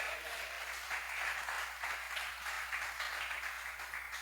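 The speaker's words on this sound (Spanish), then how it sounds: "Démosle un aplauso al Señor." A church congregation claps together in steady, even applause that sounds fairly soft and distant, continuing throughout.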